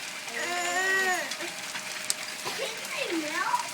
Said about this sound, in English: Look at all those hail balls.